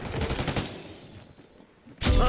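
Bursts of gunfire in a Black Ops 6 hardpoint match come in a loud volley, fade to a quieter stretch, then return sharply at the end with a heavy shot.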